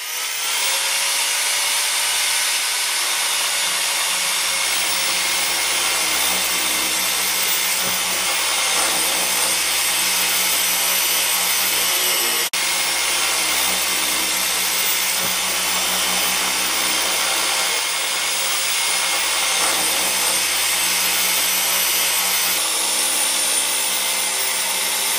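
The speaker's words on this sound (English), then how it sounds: "this is a diamond rotor bit, and it's going to give it a full bullnose" A diamond router bit shapes a concrete countertop edge into a full bullnose, a loud, continuous high-pitched whine with steady grinding that runs unbroken for about 25 seconds.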